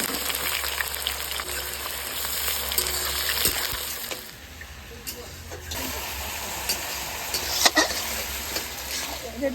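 Onion sizzles in hot spiced oil as it is stirred, a close frying hiss with scraping clicks, louder at first and then easing, with a voice briefly heard over it.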